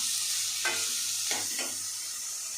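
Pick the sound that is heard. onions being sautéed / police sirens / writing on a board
onions being sautéed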